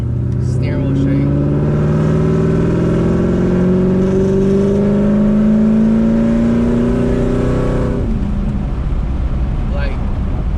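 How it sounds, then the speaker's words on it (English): A boosted Pontiac G8 revs hard under acceleration from inside the car, its engine note climbing loudly and steadily for about eight seconds before dropping off as the throttle lifts. "How much louder it gets when you give it gas."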